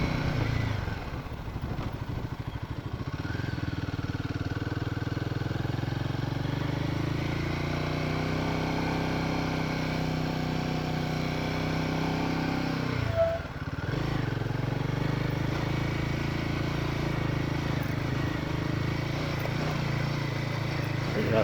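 Powerful motorcycle engine labouring up a steep, rough mountain road on a Ladakh ride between Padum and Singe La, a continuous loud drone that dips briefly midway, with no talk.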